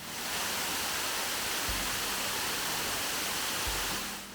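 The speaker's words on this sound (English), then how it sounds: "we have a very picturesque waterfall just beside" Steady, dense roar of a picturesque waterfall at Hickory Run park, a continuous broadband rush of falling water with no break, close and fairly loud.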